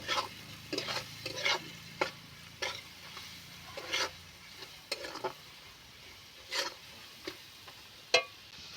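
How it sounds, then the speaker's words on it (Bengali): Spices with a little chili powder fry in a pan under a quiet, continuous sizzle, broken by repeated irregular scraping stirs of a spatula, with no talking. "গুঁড়ো লঙ্কাটা অল্প দিয়েছি এভাবে ভালো করে আমি ভেজে নেব"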